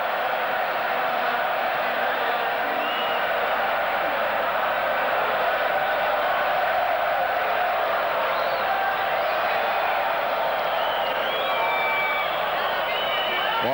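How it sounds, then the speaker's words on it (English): A Spanish crowd roars and cheers at a 1996 Futsal World Cup semi-final between Ukraine and Spain. The dense, steady wall of crowd noise lasts throughout, with commentary faintly mixed in. "The Spanish crowd loving that."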